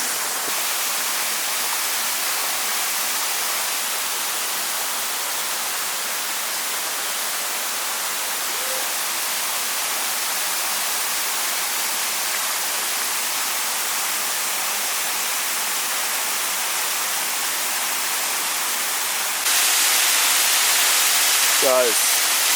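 A large waterfall in Ubud, Bali, a dense, steady roar of rushing water that stays constant throughout, growing slightly louder near the end with a brief vocal sound.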